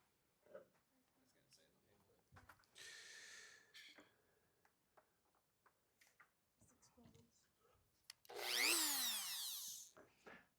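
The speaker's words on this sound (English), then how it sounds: "This is a modified Dremel." A modified Dremel rotary tool fitted with a different tip, used in a physics demo, whirs up loudly near the end in a bright rising whine after quieter stretches of handling noise and breathing.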